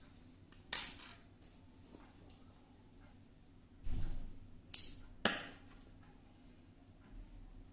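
Scissors snip through crochet thread after a chain is made for a crocheted flower petal, a few crisp, quiet clicks spaced apart in an otherwise still room.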